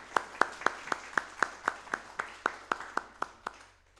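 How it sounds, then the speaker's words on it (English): Audience at a launch event applauding a speaker, heard as about fourteen crisp, evenly spaced claps in a quick steady beat that gradually fade out, with no talking over them. "So can we all just applaud her once again?"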